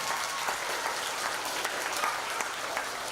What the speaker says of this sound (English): Let's give Ms. Camerata a round of applause.